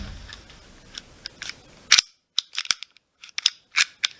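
A series of small sharp mechanical clicks and snaps from a second-generation Remington R51 pistol action cycling, several in quick succession with short gaps, close up and fairly quiet.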